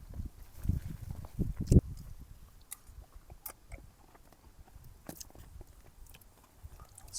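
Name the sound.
person chewing a cooked camping meal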